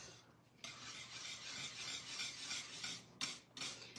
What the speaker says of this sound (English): And as you can see, I'm just stirring it up.